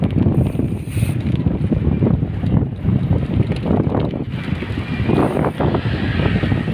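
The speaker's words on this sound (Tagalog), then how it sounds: "Mahangin siya, hindi siya mainit." Strong wind by the sea buffets the microphone during a midday bike ride, a loud continuous rumbling roar with gusty swells and no talking.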